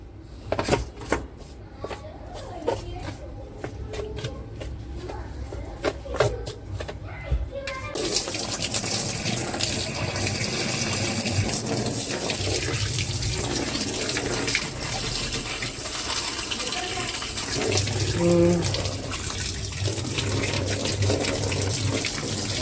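Water gushes steadily from a hose or tap into a washing machine tub during cleaning, a loud continuous rush after a few seconds of softer clattering and handling sounds.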